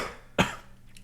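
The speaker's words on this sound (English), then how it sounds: "Sorry about that cough." A single sharp cough bursts out close to the microphone, one short loud hit that fades quickly against a quiet room background.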